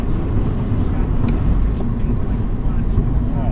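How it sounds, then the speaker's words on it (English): Road traffic rumbles as a continuous low, heavy roar of passing vehicles, close and fairly loud, with a faint higher whine near the end and no clear breaks. "Too much traffic right now."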